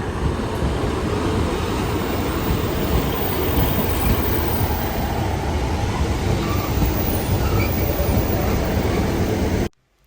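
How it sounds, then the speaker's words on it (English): A train passes along a Devon railway line near Exmouth, its loud, continuous rumble and rolling wheel noise staying close and steady for about ten seconds before cutting off abruptly. "That's the train that I got on the way down to Exmouth."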